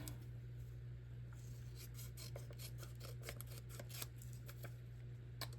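Scissors trim a paper cutout for a glue book, a faint, close series of quick, irregular snips and rasps over a low steady hum.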